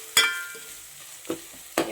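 Ginger garlic paste frying in a pan for paneer biryani, with a low, steady sizzle broken by three sharp scraping stirs spaced about half a second to a second apart, close and fairly clear with no talking.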